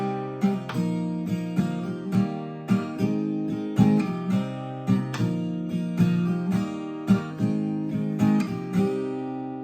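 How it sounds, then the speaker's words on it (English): An acoustic guitar plays the interlude of the song at regular speed, with a steady, repeating rhythm of strummed and picked chords sounding close and clear throughout. "that's how you're going to play the interlude."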